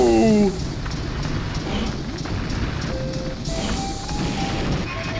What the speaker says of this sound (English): Rocks are hitting the train!